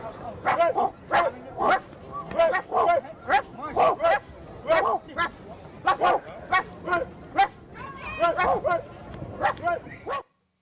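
Several dogs bark and yip in rapid, repeated bursts, loud and close, with a continuous busy chorus of overlapping yelps and whimpers over about ten seconds.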